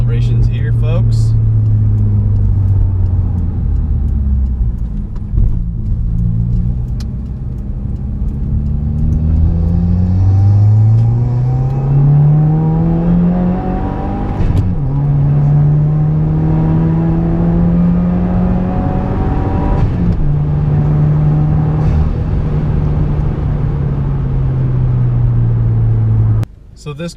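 A Subaru WRX revs through its gears under hard acceleration, its engine note rising and falling with each upshift over a steady low rumble, loud and close throughout.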